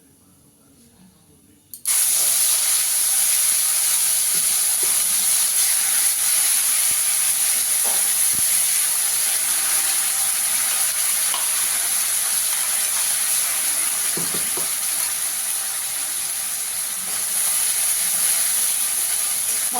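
Tomato, onion, ginger and garlic spice paste hits a hot pan with a sudden loud sizzle, settling into a steady, bright hiss that continues strongly, with a few faint kitchen knocks underneath.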